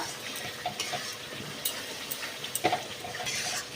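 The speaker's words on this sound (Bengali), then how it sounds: "মশলাটা কিন্তু আমি খুব ভালো করে কষে নিচ্ছি" Masala with tomato ketchup sautéed for alur dom, a soft continuous sizzle broken by light scrapes and small clinks of a spoon against the pan, fairly quiet and close.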